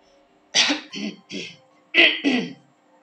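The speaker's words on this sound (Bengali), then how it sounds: "একটু কেসে গলা পরিষ্কার করে বললেন" A person clears their throat with a few short, sharp coughs in two quick bursts, close and otherwise quiet.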